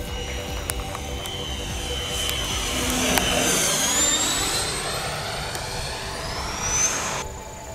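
An FMS Super Scorpion RC sport jet flies aerobatic passes outdoors, its ducted-fan whine loud and steady, rising and falling in pitch as it sweeps past, with no talk.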